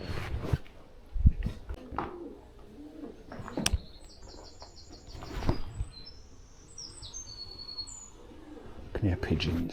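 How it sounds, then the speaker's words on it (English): Pigeons coo repeatedly inside an old, derelict malthouse, soft calls and chirps scattered through the space with occasional wing flaps, while nearby footsteps and voices break in now and then. "Can hear pigeons"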